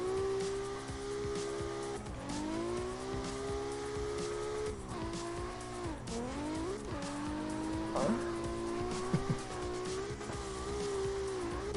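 Piranha X car drifting in CarX Drift Racing, a steady engine drone with shifting revs and sustained tire squeals that rise and dip through repeated slides, loud and continuous with no talking.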